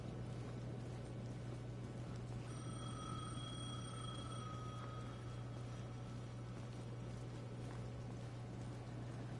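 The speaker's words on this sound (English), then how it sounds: "The payphone at the edge of the plaza was ringing again." A payphone in a video game rings in a few short electronic trills over a steady low hum and faint background noise, then stops partway through.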